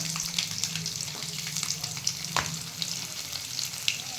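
Garlic fries in hot oil with popped mustard seeds and cumin in a pan for a dried fish curry. A crackling, spattering sizzle carries occasional sharper pops and a stirring scrape, close and moderately loud with no talk.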